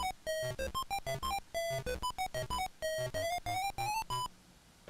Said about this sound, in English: let's play the theme tune